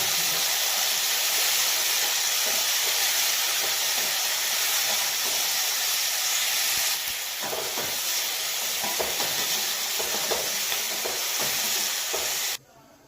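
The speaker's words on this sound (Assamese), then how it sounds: "আৰু সেইখিনি মই ভালদৰে গল্ডেন ব্ৰাউন হোৱাকৈ প্ৰথমতে ভাজি ল'ম।" Ginger and spices frying in hot oil until golden brown, a steady loud sizzle and hiss with faint stirring, which cuts off abruptly at the end.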